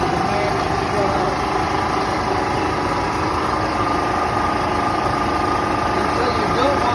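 An air compressor filling an SCBA bottle at a fire department runs with a continuous, loud, even mechanical drone and hiss that stays constant throughout.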